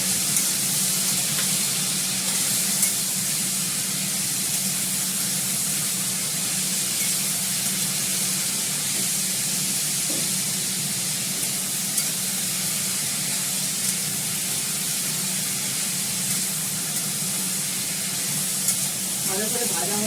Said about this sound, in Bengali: এবার এটাকে ভালো করে একটু ভাজবো।